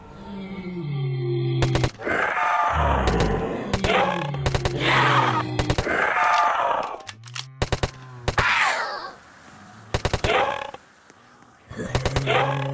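A suppressed fully automatic MCX-SPEAR in Roblox Project Lazarus fires in repeated short bursts of crisp cracks, while zombie groans and roars swell between and beneath the volleys throughout.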